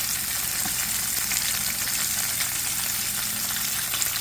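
Fresh walleye fillets fry in hot oil with a constant, dense crackling sizzle, close and steady, with no voices.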